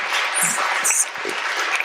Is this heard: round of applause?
yes